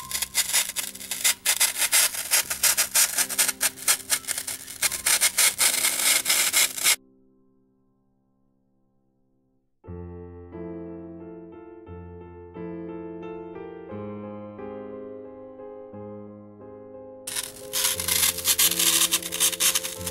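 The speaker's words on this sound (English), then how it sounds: "Use a fuddling knife to cut in about a quarter of an inch." A fettling knife cuts into a sculpture base with loud, rapid scraping strokes for several seconds, stops while music plays, then starts scraping again near the end.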